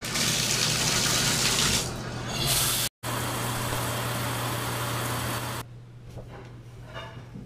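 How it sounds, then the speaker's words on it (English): A shower runs steadily in a bathroom, a dense broad hiss of falling water with a low hum beneath, briefly cut off once, then easing to a softer spray near the end. "I'm going to jump in the shower"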